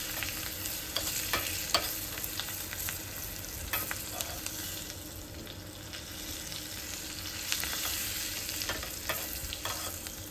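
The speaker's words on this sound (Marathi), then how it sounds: "तर इथे हा लसूण थोडासा परतून घ्यायचा, म्हणजे थोडासा असा क्रिस्पी होई तोपर्यंत" Garlic sautéing in a kadhai until crispy, a continuous oily sizzle with occasional scraping and stirring clatter from a spoon against the pan, close by, with no speech.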